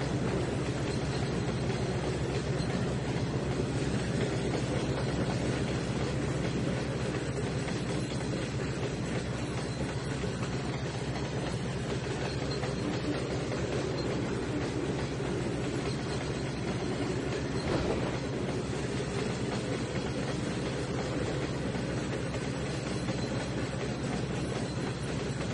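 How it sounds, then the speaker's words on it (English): Train rolling on rails in the Trainz 2019 railway simulator game, a steady continuous rumble with low engine drone and faint wheel clatter, constant and fairly loud throughout with no talking. "Got another train here."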